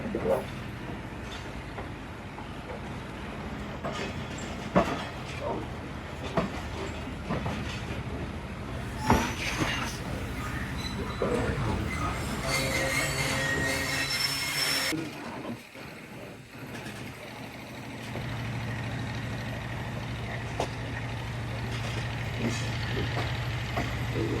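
Pakistani passenger train, the Bhully Shah Passenger, pulling out of platform 3 at Rawal Junction after a five-minute stop, with rumbling carriages, scattered clanks and a brief high wheel squeal midway, under a voice.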